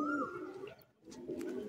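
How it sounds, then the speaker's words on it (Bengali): Male fancy pigeon cooing softly up close, a short low throaty coo with a brief pause, quiet and alone. "দেখুন একটি আপনাদেরকে দেখাচ্ছি নর পায়রা দেখাচ্ছি"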